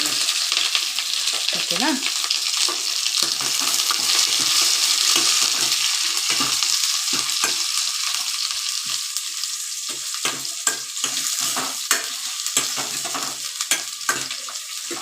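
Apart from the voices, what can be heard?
green chillies and onion frying together in a pan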